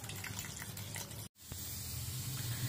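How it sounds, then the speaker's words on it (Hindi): Water splashes and gushes steadily into a cooking pot on the stove, close and fairly soft, with a brief break midway before the flow resumes. "और पानी ये डाल के चढ़ा देंगे।"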